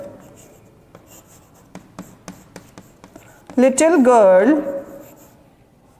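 During an English grammar lesson, a pen scratches out a series of short, crisp strokes on a board or paper, then a teacher's voice speaks over the end.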